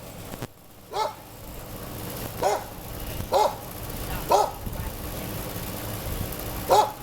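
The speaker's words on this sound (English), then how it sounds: "Trying to do a video and dogs barking at me." A dog barks from a short way off in five spaced single barks with irregular gaps, moderately loud against a low outdoor background hum.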